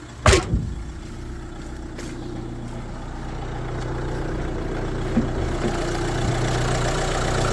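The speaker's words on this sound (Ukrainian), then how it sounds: "Чиста робота двигуна, ніяких нарікань" A Renault Master van engine idles steadily at close range, a low continuous rumble with a couple of brief knocks near the start.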